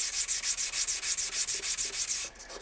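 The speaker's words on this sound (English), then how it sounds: "So that's cleaning and sanding a stone" Rhythmic back-and-forth rubbing of a ski-tuning sharpening stone being sanded flat, a rapid gritty scraping repeated about a dozen times, close and steady, then stopping.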